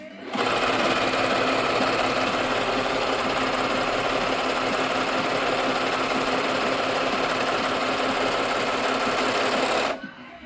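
A Britex BR 703 overlock sewing machine runs loudly and steadily for about nine seconds at a fast, even whirring rhythm, close by, starting and stopping abruptly.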